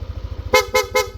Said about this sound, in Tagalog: Pag naka-off yan, stock horn yung tutunog.